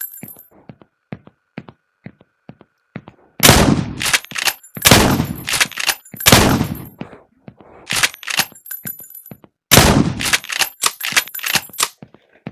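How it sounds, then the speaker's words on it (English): A normal shotgun fires repeatedly in the sandbox game Beyond Sandbox, loud close blasts in clusters, separated by quieter clicking reload sounds. "Now we have this normal shotgun."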